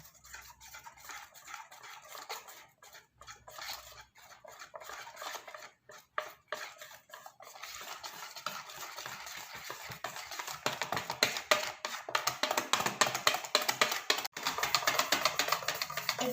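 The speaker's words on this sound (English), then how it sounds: "now we're going to whisk it until it's well mixed" A whisk clatters quickly against a bowl, beating gingerbread cookie batter with vanilla extract, a steady, fairly quiet scraping and tapping that grows busier and louder toward the end.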